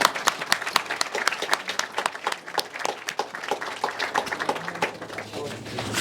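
An audience at a networking dinner for a curry awards event claps in a sustained round of applause, dense and close, continuing steadily for the whole stretch without talk.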